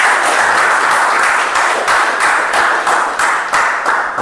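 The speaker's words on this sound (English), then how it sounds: "So give yourself a big round of applause." A large crowd at a Sunday morning communication and leadership meeting gives a big round of applause, loud and close, settling into a pulsing, almost rhythmic clapping toward the end.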